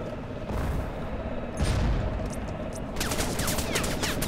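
Gunfire in the Crysis video game, with bursts of shots, a heavier boom around the middle, and a rapid crackling volley toward the end, all at moderate distance.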